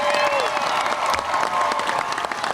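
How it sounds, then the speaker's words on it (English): Audience applause at a Blue Ribbon School ceremony for LaSalle Language Academy, a dense, steady clatter of many hands lasting a few seconds, with cheering voices and crowd murmur mixed in. "So let's give everybody a round of applause."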